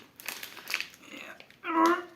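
Plastic packaging crinkles and crackles as someone struggles to tear it open, in irregular bursts that grow louder at the end, with voices mixed in.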